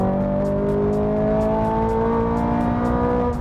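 A manual 2020 Toyota Supra engine pulls hard near 5,000 RPM, a loud, steady, rising drone that fills the cabin with no speech over it.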